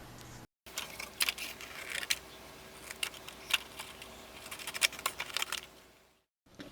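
Scissors snipping through thick paper card while cutting out a planner dashboard along a straight top edge, a quick run of crisp irregular cuts and rustles, close and clear with no talking.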